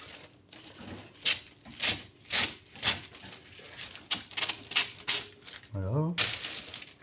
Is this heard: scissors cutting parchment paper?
yes